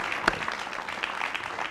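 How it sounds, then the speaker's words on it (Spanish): An audience applauds during a televised interview, giving a steady wash of many hands clapping with a few sharper individual claps standing out from it. "Un aplauso, sí, para mi hermano, por favor."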